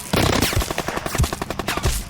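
Gunfire in an audio drama firefight, a rapid automatic burst of loud close shots with a few heavier booms mixed in, dense and continuous.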